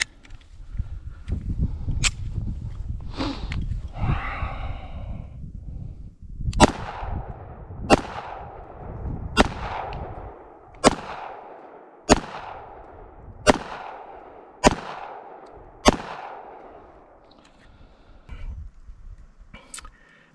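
Sharp, evenly spaced gunshots from a Smith & Wesson M&P Shield EZ .380 pistol at an outdoor range, about eight loud reports ringing out one after another with short echoing tails, after a stretch of quieter handling noise.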